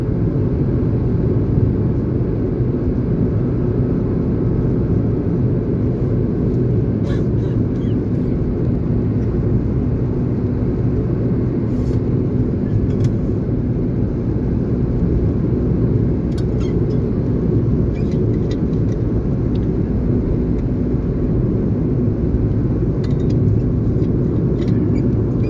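Highway traffic on the road from Palsana to Surat, heard from inside a moving vehicle as a steady, loud, low rumble of engine and road noise that continues without a break.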